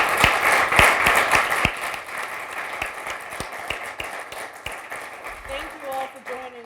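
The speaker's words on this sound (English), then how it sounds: "Another round of applause." Audience applauds at a student alliance event after a talk, a dense patter of clapping with a few sharp close claps, fading toward the end under a short voice.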